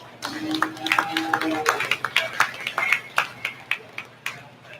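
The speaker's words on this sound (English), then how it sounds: "Give those kids a round of applause." A 4-H cattle show crowd answers an announcer with a short burst of scattered hand clapping that thins out into a few separate claps.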